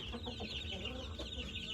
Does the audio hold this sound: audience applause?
no